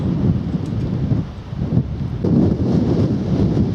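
Strong wind buffets the microphone on a countryside walk between Ham Street and Appledore, a loud, gusty low roar that surges and eases in waves with no voices.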